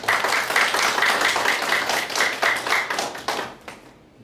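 Audience at a church service claps steadily for nearly four seconds, a dense close burst of hand claps that fades out quickly at the end, with no talking over it.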